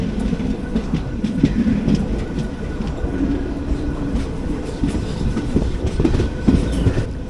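Indian passenger train in motion heard from inside an AC 3-tier coach on a Palakkad to Bengaluru service, a steady low rumble with rhythmic wheel clatter and occasional knocks, continuous throughout.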